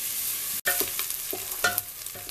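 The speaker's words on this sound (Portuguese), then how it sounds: "Agora nós vamos deixar esse alho junto com essa cebola fritar aqui um pouquinho" Garlic and onion frying in a pan give a close, continuous sizzle with brief crackling bursts, alone without any voices.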